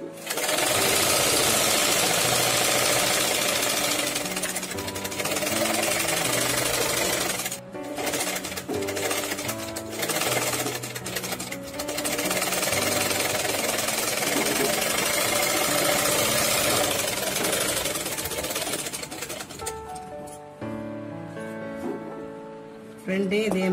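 A sewing machine runs in steady bursts while stitching the front piece of a blouse, its mechanical whir loud and close with brief pauses between runs.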